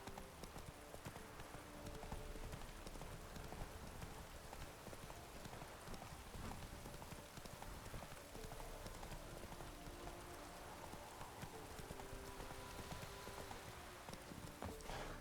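Horse hooves clip-clopping at a steady galloping rhythm in a fantasy video game, the horse Roach running under a constant hiss of rain, faint and without pauses.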